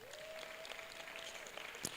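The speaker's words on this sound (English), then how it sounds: "Clap for her before she even comes up." Faint clapping from an audience at the Nestlé X ACCA Africa Youth Day Summit 2025, greeting a female moderator, with a thin steady tone running beneath the light patter.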